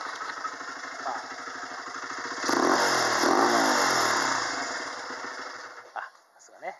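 A Honda Ape motorcycle engine with a Yoshimura aftermarket muffler idles with a throaty, burbling exhaust, then revs up briefly and settles back down.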